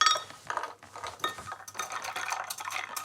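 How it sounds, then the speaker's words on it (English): Matcha whisked in a bowl with ice added for an iced latte, giving quick scraping whisk strokes and light clinks of ice against the vessel, close and fairly soft, with no talk. "So I'm just going to keep whisking that. I'm also going to add some ice to cool it down quickly."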